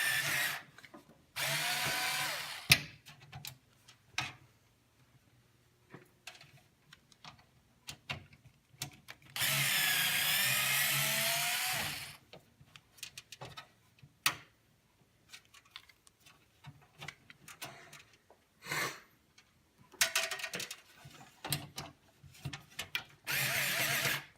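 A power screwdriver whirs in three separate bursts, one short, one longer of about three seconds and a brief final one, backing out self-tapping screws that hold a computer fan in plastic, with quiet clicks and handling between.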